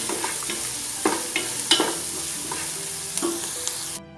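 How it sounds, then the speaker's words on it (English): Onions frying in hot oil for a mushroom pulav hiss with a continuous close sizzle, broken by occasional scraping stir clicks, before cutting off abruptly near the end. "When the oil is nice and hot, I am adding the onions"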